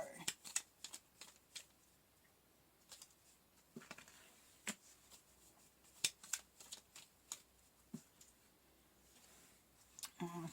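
Tarot cards shuffled and pulled from a deck, a run of sharp, quiet riffling clicks and snaps in irregular bursts, close to the mic, with no talk over them.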